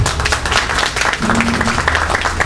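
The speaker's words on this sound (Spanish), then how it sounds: "un fuerte aplauso para el doctor Percy Castillo" Loud, dense applause from an audience at an evening constitutional law lecture, sustained and steady throughout as many hands clap together at close range, with a faint tonal hum in the background.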